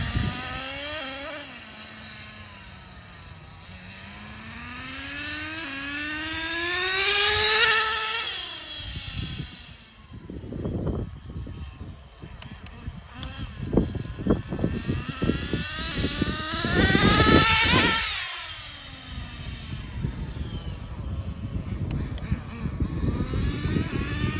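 A nitro HPI Racing RS4 3 Evo RC car runs outdoors at night, its small engine whining and rising in pitch as it accelerates past twice, fading between passes with raspy throttle blips, moderately near.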